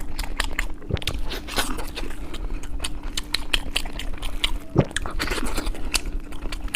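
Close, loud crunching and chewing as someone bites into an Old Beijing-style crispy chicken leg wrap studded with corn kernels, with continuous crackly bites and mouth sounds throughout and no talking.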